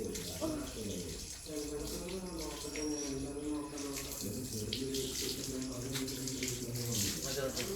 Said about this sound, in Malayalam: വെള്ളം മതി, വെള്ളം നിർത്ത്.